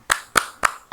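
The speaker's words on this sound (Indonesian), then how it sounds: "Tepuk semangat." Participants in an online Ramadan pesantren kilat session do a spirit clap, four sharp, close hand claps in a quick, even rhythm with brief silence between them.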